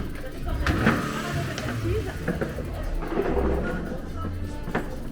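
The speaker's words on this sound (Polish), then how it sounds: "ten akompaniament samochodów to mi nigdy nie przestanie towarzyszyć" Cars pass along a town street during a carnation festival in Falicon on the French Riviera, a steady moderate traffic rumble with swells as vehicles go by under nearby voices.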